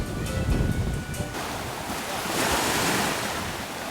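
Ocean waves and gusty wind at Jaguar Reef, Belize, with surf washing in and heavy wind buffeting the microphone, a roaring wash swelling midway.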